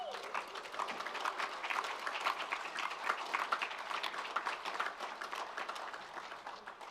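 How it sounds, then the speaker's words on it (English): Graduates at a virtual graduation ceremony clap for themselves, and the scattered, fairly faint applause runs steadily through the whole stretch. "Give yourselves a round of applause."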